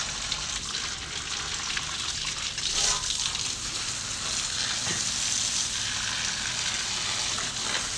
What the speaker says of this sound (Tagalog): Yan yung inuman ng mga ibon guys. Lagyan natin ng tubig.